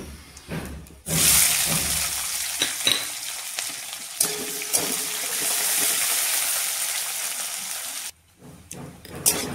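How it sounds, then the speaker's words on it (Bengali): Finely chopped onions hit hot oil seasoned with five-spice and burst into a loud, sustained sizzle, steady frying close up with occasional stirring clicks until it cuts off near the end. "ছোটো সাজের পেঁয়াজ কেটে রেখেছি, একটু ঢেলে ভেজে নিব।"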